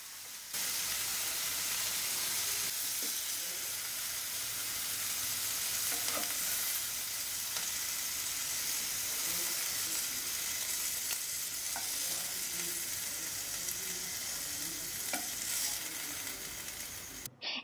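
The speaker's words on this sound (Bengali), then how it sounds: "চিকেনের বোথ সাইড কুক হয়ে গেলে চিকেনগুলোকে তুলে নেব।" Chicken pieces fry in a pan for butter chicken, giving a steady, dense sizzle throughout, broken by a few soft stirring knocks and no talk.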